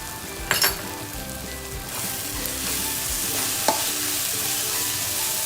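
Prawn masala with red chilli, salt and garam masala is stirred in a hot pan, making a continuous close sizzle and frying hiss, with a few sharp clicks of a spoon against the pan and no voices.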